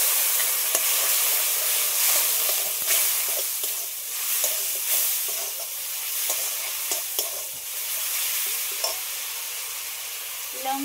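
Turmeric and ginger-garlic paste frying in hot oil in a pan, a continuous soft sizzle with scraping stirs and faint clinks of a utensil against the pan, close up with no talking.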